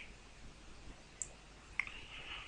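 A computer mouse gives two faint, crisp clicks about half a second apart against a quiet room hiss.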